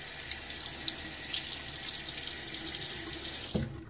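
A Tatara Nodachi safety razor is rinsed under a running tap: a steady, close splashing rush of water that cuts off near the end with a small clunk.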